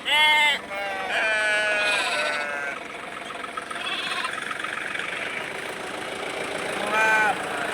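Young goats bleat repeatedly while being loaded onto a vehicle, several close, high cries over a steady idling engine, with quieter bleats from the flock between them.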